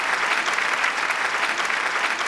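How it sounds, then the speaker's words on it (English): A large audience gives singers at a business awards ceremony a steady round of applause, dense and even throughout with no voices over it. "Can we all give them a big round of applause again?"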